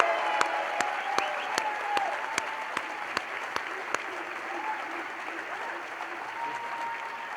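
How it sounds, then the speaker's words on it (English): Crowd applause at a school district staff celebration as a head custodian is announced winner, sustained clapping with sharp individual claps standing out and faint voices mixed in. "Keep clapping"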